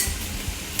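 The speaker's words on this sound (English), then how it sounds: "Stir and mix until it turns into a thick sauce." Mushroom, minced pork and seasonings being stirred into a thick sauce in a pan, a close, steady sizzling with soft spoon scrapes throughout and a brief clink near the end.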